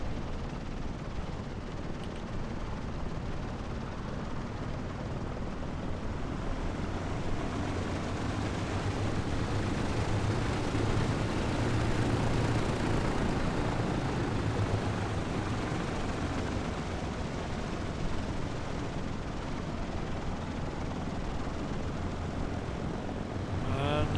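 Vintage Douglas DC-3 in Microsoft Flight Simulator 2020, its twin radial propeller engines droning steadily and loudly throughout while taxiing at Duxford, a dense continuous rumble with no pauses.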